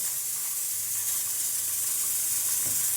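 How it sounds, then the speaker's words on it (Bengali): Pakoras frying in hot oil give off a continuous, even sizzling hiss, close and steady throughout the short stretch with no voices. "দেখো বন্ধুরা পকোড়া হচ্ছে এই যে এক রাউন্ড হলো"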